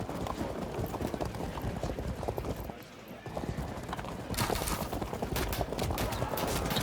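In the strategy game Field of Glory 2, horse archers move with a dense, continuous drumming of many hooves and occasional whinnies, briefly dipping then returning louder.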